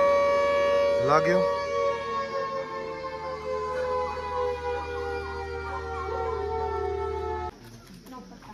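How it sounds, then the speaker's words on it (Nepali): A long six o'clock siren wails steadily with a rising sweep near the start, holding several sustained tones loud and alone before cutting off near the end, set outdoors on a student excursion at Temi Tarku with a brief voice afterward. "छ बजेको साइरन"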